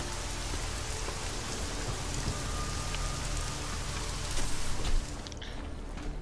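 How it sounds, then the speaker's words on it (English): Rain in Deus Ex: Mankind Divided pours down as a loud, constant wash of drops, with a brief swell near the end before it thins slightly; no voices. "the rain is cool."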